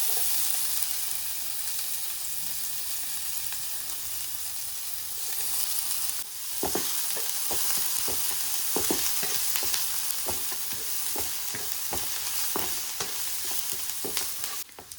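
Garlic and onion fry in a pan with a steady broadband sizzle, joined halfway through by a run of sharp scraping stirs and clinks close by; no voices.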